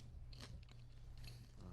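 Someone bites into crunchy food, producing a few sharp crisp crunches spaced irregularly over a steady low background hum, close and fairly quiet with no talking.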